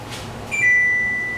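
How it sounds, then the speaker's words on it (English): A single high electronic beep from an oven, sharp and clear, ringing out briefly over quiet room tone. "Our oven's beeping."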